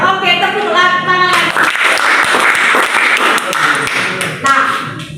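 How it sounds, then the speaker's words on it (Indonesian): A classroom of students claps together in a short burst of applause, fairly close and loud, with a teacher's voice speaking before and after. "Oke, tepuk tangan."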